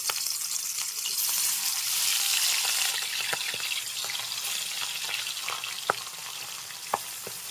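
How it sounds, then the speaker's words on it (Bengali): Pieces of rohu fish fry steadily in hot oil for a curry with potato and pointed gourd, a continuous close sizzle with a few sharp pops and clicks near the end. "এখন মাছগুলো ভেজে নিচ্ছি খুব কড়া করে থাকবো না তবে একটু ভালো করে ভেজে নিতে হবে"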